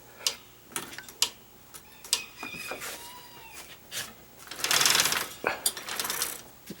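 A bike-style chain with a tensioner runs over turning sprockets and wheels, giving irregular light mechanical ticks, clicks and a brief whirring rattle in the middle, fairly close and moderately quiet.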